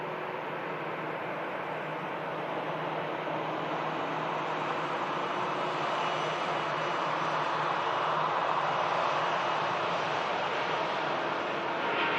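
A Singapore Airlines A350 starts its takeoff roll from runway 05 Left at Manchester Airport, a steady broadband jet roar heard from a distance that swells slightly over twelve seconds, with no talking.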